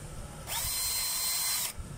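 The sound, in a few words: power drill driving a screw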